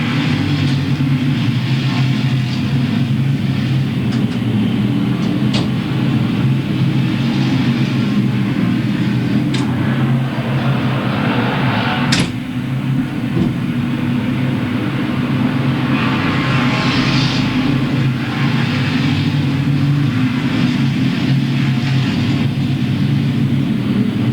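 Street stock race cars roar around Louisville Motor Speedway in 1997, a loud, unbroken wall of engine noise that stays steady throughout with no pauses and no speech on top.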